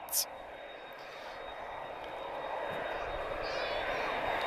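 Broad, steady roar of an Airbus A330-200 with GE CF6 jet engines departing Lisbon Airport, fairly distant, slowly growing louder across the clip with a faint high tonal whine on top.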